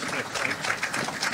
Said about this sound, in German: wir müssen ein bisschen klatschen